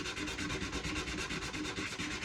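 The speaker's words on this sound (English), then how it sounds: "And then there's the sanding." Sandpaper rubs back and forth on the wood of an old acoustic guitar in a quick, even rhythm of strokes. The scratching is close but quiet, with no voices.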